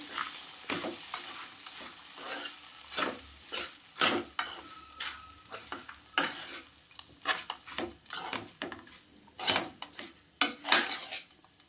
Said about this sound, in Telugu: అటుకులని మొత్తం మిక్స్ చేసుకోవాలి